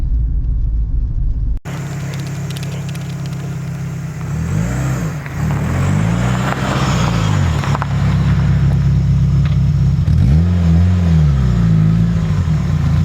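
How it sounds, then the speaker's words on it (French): Renault Clio 2 RS engine revving, a loud continuous rumble with several rising and falling sweeps as the throttle is blipped, close to the car, with no talk. "Et voici ma Renault Clio 2 RS."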